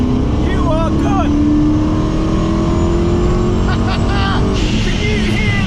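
Supercharged 2010 Camaro SS V8 with a TorqStorm blower roaring under throttle, a loud, sustained engine drone with rising supercharger whine, close and continuous throughout, with someone talking over it.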